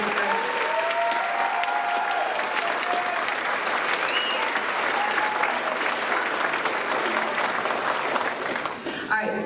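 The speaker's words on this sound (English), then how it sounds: "One more big round of applause for these guys." A big round of applause fills a school band spring concert, dense sustained clapping from a crowd that carries on steadily for several seconds, with voices in the background, before tapering off near the end.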